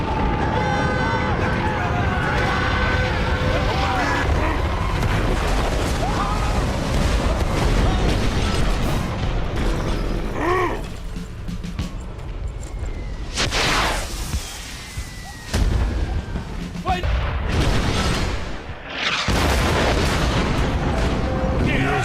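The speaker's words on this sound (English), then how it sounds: "Precision cannon firing" Loud, booming artillery cannon fire from the video game Valiant Hearts: The Great War, in repeated heavy blasts with whooshing shells, continuous and close, like a battle scene.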